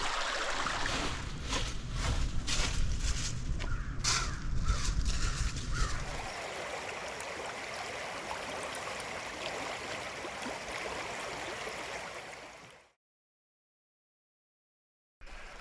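Blair Creek on the Ozark Trail flows in a steady broadband wash of running water, louder and lower for the first six seconds, then a thinner, even rush until it cuts to silence near the end.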